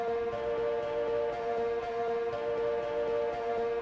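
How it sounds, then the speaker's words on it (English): A bouncy, VHS-style synth layer from a pop track's chorus, with sustained steady tones over a busy, noisy texture and soft rhythmic pulses, moderately quiet and continuous with no voices. "Then there's this VHS"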